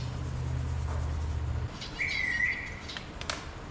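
Small pet birds chirp inside a heated indoor aviary on a snowy winter day, a clear rising tweet and a few short scattered calls standing out over a steady low hum.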